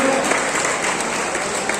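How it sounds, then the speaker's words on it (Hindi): Children applaud loudly at an Islamic quiz and Natiya competition inauguration, a thick, steady wall of clapping from a large crowd that holds at full volume throughout. "बच्चे जोरदार तालियां बजनी चाहिए।"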